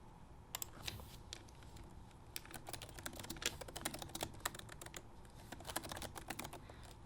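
A computer keyboard being typed on to enter a test utterance into the Bixby simulator, a steady stream of crisp, close key clicks lasting several seconds with no talking.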